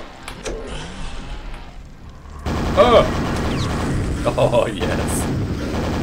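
Nail gun fire in Quake Remastered, a dense rapid stream of mechanical shots and impacts kicking in partway through, with a player's voice talking over the game action.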